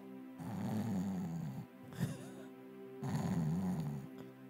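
A preacher imitates snoring with his voice, two long rasping snores separated by a short sharp sound, fairly loud and close.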